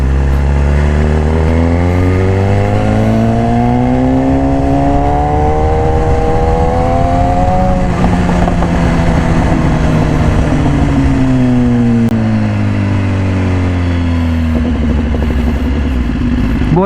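A 2018 BMW S1000RR in Racing Red, fitted with an Austin Racing exhaust, is ridden at close range. Its engine howls loudly and continuously, with pitch sweeping up and down through repeated gear changes and throttle rolls.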